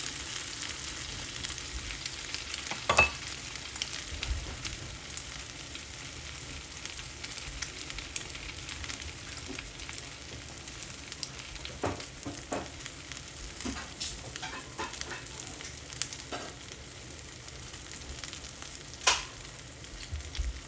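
Egg fried pizza sizzles steadily in a frying pan, a soft continuous crackle with scattered pops and occasional faint utensil taps, heard alone without talk.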